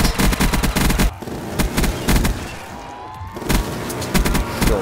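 Rapid automatic gunfire at zombies in a Minecraft-styled custom Black Ops 2 Zombies map, close loud bursts of quick shots separated by short pauses, with no talk.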